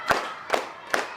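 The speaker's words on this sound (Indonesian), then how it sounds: "teman-teman tepuk tangan 3 kali" Students in a classroom clap hands in unison three times, each clap a sharp crisp smack about two-fifths of a second apart, loud and close with no talk.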